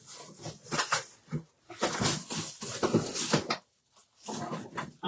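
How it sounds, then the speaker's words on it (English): A dog scrabbles and rustles inside a box, making several bursts of scraping, crinkling noise close by, separated by short quiet gaps. "dog got in that box"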